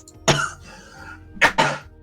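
Three close coughs from one person: a single harsh cough, then a short pause and two quick coughs back to back, loud and near against a quiet room.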